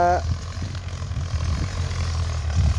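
A Ford tractor engine labours steadily under load while working hard, dry soil thick with grass, a continuous low drone close by with voices talking over it.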